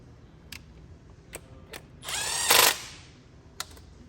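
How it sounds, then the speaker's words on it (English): A tool tightening the nut on a ground wire during a wiring harness install on a Toyota A90 Supra, with a short burst of rapid ratcheting in the middle and a few sharp isolated clicks before and after, close in a quiet space. "And get the nut. Tighten it down."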